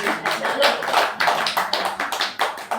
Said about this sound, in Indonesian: Aplaus buat panjenengan semuanya